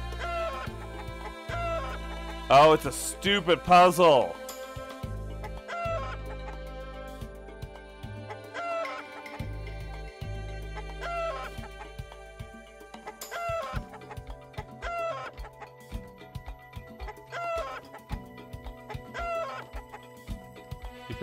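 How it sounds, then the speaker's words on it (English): Chicken clucking in the video game Monster Girl Fantasy, a burst of squawking cackles early on, then scattered clucks over background game music while someone talks briefly. "Come here, you f***ing chicken."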